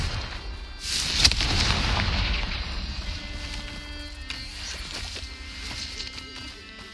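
A Confringo blasting spell goes off in Hogwarts Legacy, giving a sharp crack followed by a rumbling explosion that slowly fades, with lighter game effects and clatter continuing afterward.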